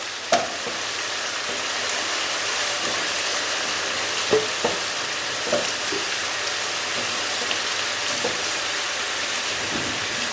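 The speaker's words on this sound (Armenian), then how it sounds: "Թող տապակվի։" Mushrooms and onions frying together in a pan give a steady, loud sizzle and crackle throughout, with a few sharper clicks and spatters standing out, and no voices.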